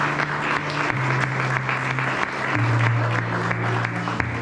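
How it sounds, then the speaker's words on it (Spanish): A congregation in an evangelical church claps in a steady, sustained round of applause, with a held organ or keyboard tone underneath and faint voices mixed in. "Un fuerte aplauso."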